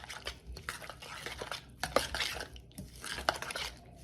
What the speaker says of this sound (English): let's see what happens now when I stir it up